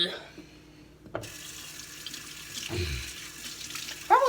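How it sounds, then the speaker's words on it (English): Tap water runs steadily into a sink as hands are washed beneath it, close and fairly loud, with splashing shifts as the hands move through the stream and a brief squeak near the end. "Gotta wash my hands now."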